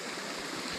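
A small trail-crossing stream on the Appalachian Trail in Vermont, serving as a shelter's water source, flows with a steady close broadband rush and babble, continuous throughout without pauses or voices.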